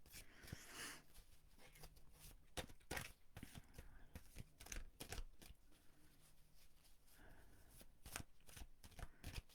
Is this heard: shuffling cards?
yes